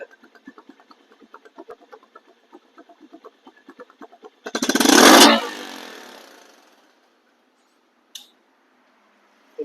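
A 2024 TVS Metro Plus motorcycle engine idles with a quick, regular putter, then revs loudly in one short burst that fades away, leaving near silence.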